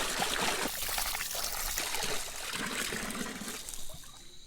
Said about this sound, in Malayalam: നല്ലതുപോലെ നമുക്ക് വെള്ളത്തിൽ ഇതിനെ കഴുകിയെടുക്കാം